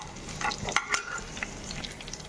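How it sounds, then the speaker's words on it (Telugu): Dry coconut pieces fry in a pan while being stirred, a dense close sizzle with scraping and rattling clicks from the spatula, steady and alone. "ఇవి చక్కగా వేగనివ్వాలండి దోరగా."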